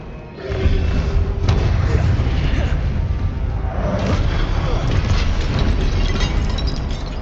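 Fiery Incendio spell blasts in Hogwarts Legacy, a loud sustained roar of rumbling booms and crackling bursts filling the whole stretch, with a few sharp cracks layered on top.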